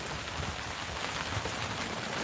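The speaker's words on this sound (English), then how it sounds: "I love the wind because it blows the rain off." Steady rain falls outdoors in the wind, a dense, even hiss of drops hitting surfaces that holds at a constant moderate level, with no voices.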